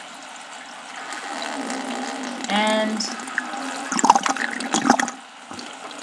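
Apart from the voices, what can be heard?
water surging and draining in an aquaponics siphon system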